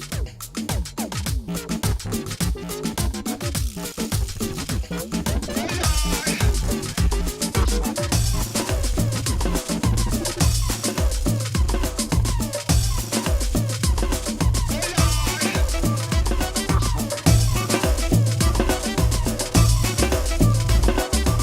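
Layered Caribbean music loops from the Native Instruments Caribbean Current construction kits play continuously, with punchy rhythmic low-end hits and busy percussion under bright melodic parts at a steady, loud level.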